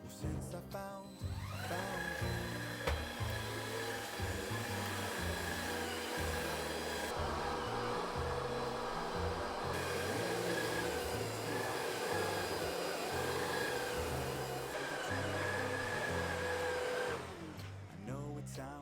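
An Ultimate Home 700 self-standing cordless vacuum cleaner whirs loudly and steadily at close range for most of the stretch, with a high motor whine, then stops near the end.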